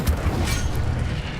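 An Incendio fire spell goes off in the video game Hogwarts Legacy, a brief, loud, low booming burst that rumbles for about a second and a half.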